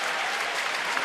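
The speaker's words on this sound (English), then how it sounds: "the crowd gives Tommy Hunter a nice round of applause" Sustained applause from a baseball stadium crowd for pitcher Tommy Hunter, a steady broadband wash of clapping that stays loud and even throughout with no individual voices standing out.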